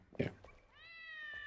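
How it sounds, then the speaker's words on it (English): A cat in the survival game Enshrouded gives one clear, rising meow near the end, faint and alone after a brief burst of background noise. "Come on, pretty cat."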